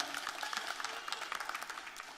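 Faint, steady applause from an audience at a candidate forum, greeting the District 34 Senate candidates with dense, even clapping throughout the short stretch.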